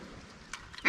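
A mallard duck quacks over a flooded cornfield during a hunt, a loud nearby quack at the end after a faint earlier call, with low outdoor rumble underneath.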